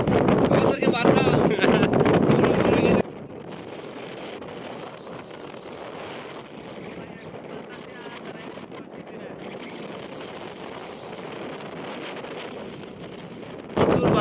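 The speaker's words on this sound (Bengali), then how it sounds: "চারিদিকে শুধু বালু আর বালু, দাঁড়ানো সম্ভব না, এত বাতাস।" Strong storm wind roars and buffets the microphone on a sandy Padma river bank, a loud gusting blast for the first three seconds that settles into a steady heavy rush, swelling again at the end.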